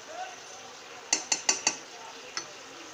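Dal paste being stirred and fried in a pan, a low sizzle under four quick metallic clinks of a spoon against the pan and one more a moment later.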